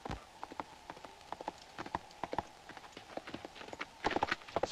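A horse walks by with steady, fairly close hoof clip-clops on hard ground, the irregular knocks coming quickly and getting a bit louder near the end, with no talk over them.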